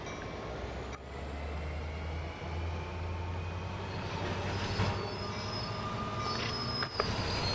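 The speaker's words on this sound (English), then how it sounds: "Okay, I need to stop the train now." A train running in the video game Train Sim World 2: a steady low rumble of the train with rolling wheel noise and faint high squeals, plus a couple of sharp clunks, continuous throughout.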